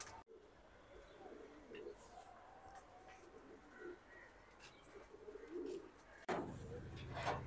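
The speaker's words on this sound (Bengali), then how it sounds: "এই পেয়ারটা সারানপুরি কবুতর।" A pair of Saharanpuri pigeons coo softly in repeated low, rolling phrases, quiet and fairly close, with a louder knock and rustle near the end.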